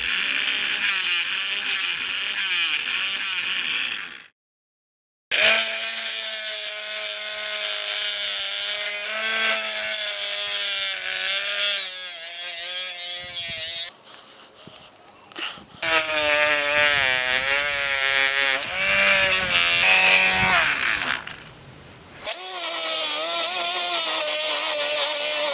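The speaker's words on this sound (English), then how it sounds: "I find these type of Dremel bits much better for sharpening knives." Cordless 12V rotary tool with a Dremel bit grinding rust off and sharpening a knife blade, a loud high-pitched whine with rasping contact, running in long bursts separated by brief pauses.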